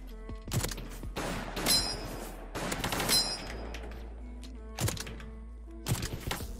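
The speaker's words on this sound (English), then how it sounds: "I'm getting destroyed by these revolvers" Revolver shots in the video game Krunker, a handful of sharp reports spaced irregularly across the moment, loud and close over a steady game background.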